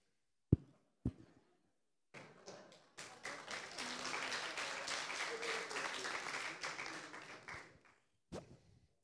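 Audience applause breaks out at a political summer-school interview event, beginning with a few sharp isolated claps and then swelling into several seconds of sustained clapping from a crowd before dying away, with a final lone clap at the end.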